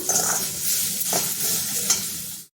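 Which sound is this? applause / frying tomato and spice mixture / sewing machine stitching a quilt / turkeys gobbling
frying tomato and spice mixture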